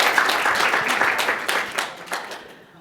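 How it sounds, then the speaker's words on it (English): Audience applause at a conference panel event, a short burst of clapping from a crowd that fades out within a few seconds. "Please give us a round of applause, Dr. Brian."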